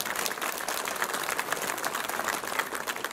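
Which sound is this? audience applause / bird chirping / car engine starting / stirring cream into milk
audience applause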